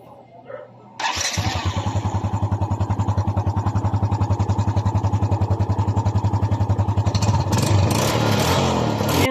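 A Honda Wave 125 motorcycle fires up after a short crank and settles into a steady, even idle close by, with a blip of revs near the end.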